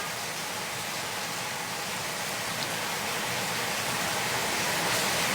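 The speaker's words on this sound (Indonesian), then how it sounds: "Oh, enaknya hujan di deras." Heavy rain pours steadily at night in Denpasar, Bali, during flooding, a dense, even hiss of water on surfaces that holds constant and slightly swells toward the end, with no voices.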